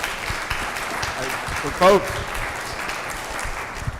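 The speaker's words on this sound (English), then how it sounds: "You can applaud if you want." Audience applause at a Shabbat gathering, a steady wash of clapping that carries through the whole moment, with a voice speaking briefly over it.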